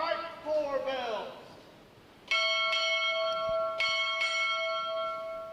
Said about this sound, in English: strike 4 bells